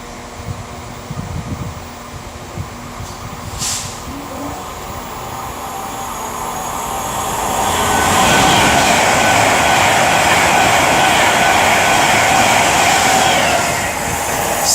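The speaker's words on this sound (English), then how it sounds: "Also about to pass through will be 390-134 for Avanti West Coast" An Avanti West Coast class 390 train passes through Nuneaton, its roar swelling from a steady rumble into a loud, sustained rush that holds through to the end.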